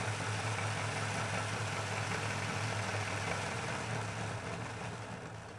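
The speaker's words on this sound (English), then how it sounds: "And now we'll drive it on the rolling road to get that oil. Into the locomotive." A model railway locomotive runs on a rolling road, giving a continuous steady motor hum with a low mechanical whir that holds level and eases slightly at the end.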